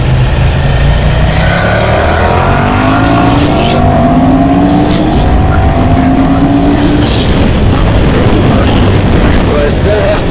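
Constant loud engine drone of a 2009 Ducati Monster 1100S motorcycle riding through traffic, with rising and falling pitch as it accelerates, buried under heavy wind rush.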